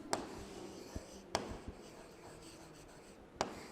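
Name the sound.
writing the solution of a maths sum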